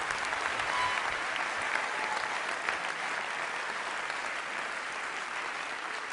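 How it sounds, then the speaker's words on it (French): An audience at the Vendée Globe 2016 sailing race awards ceremony applauds the skippers: a long, even, moderately distant wash of many hands clapping. "Et merci pour ces premiers applaudissements ce soir pour les skippers."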